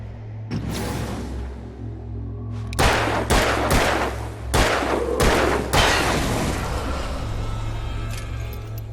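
Gunshots ring out in an Alan Wake cutscene, a handful of loud, sharp cracks spaced irregularly over a constant low rumble and droning ambience, with no speech between the shots.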